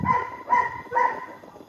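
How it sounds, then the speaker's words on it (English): Dogs in the Philippines bark three times in an even rhythm, fairly close and clear, with no talk over them. "You guys hear all the dogs?"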